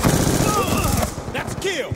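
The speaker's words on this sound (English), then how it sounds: "I need to use that AK" Dense rapid AK rifle fire from Call of Duty Black Ops gameplay, a loud rattling burst running through the first second, then scattered shots and game effects as a voice speaks over the action.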